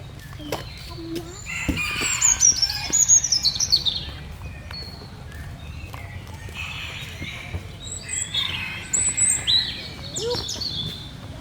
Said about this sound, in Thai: ไก่ ไก่แก่อยู่ที่นี่เยอะมาก